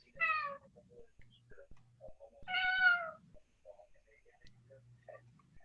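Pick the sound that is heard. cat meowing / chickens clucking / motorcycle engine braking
cat meowing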